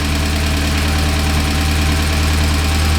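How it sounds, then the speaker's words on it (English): A Morris Minor Traveller classic car engine running steadily after starting, loud and close with an even, continuous rumble and knocking idle throughout. "Ignition on. First turn of the key."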